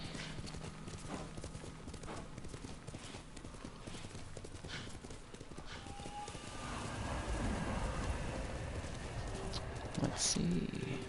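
Horse hooves clip-clop steadily in the Ghost of Tsushima video game, close and rhythmic over a constant rain-like hiss, growing louder toward the end with a brief sharp burst near the close.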